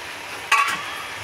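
Fried potatoes stirred into a thick masala gravy with chicken feet in a pan, a soft steady sizzle with a brief scraping stir of the spoon in the middle.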